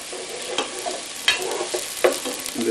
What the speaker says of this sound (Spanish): echamos nuestra cebolla, dejamos que dore, que salga todos los sabores de la cebollita.